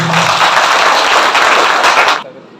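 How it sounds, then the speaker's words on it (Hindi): A motivational speech audience breaks into loud, dense applause that holds steady for about two seconds and then cuts off sharply. "इसके लिए एक बार जबरदस्त ताली हो रही।"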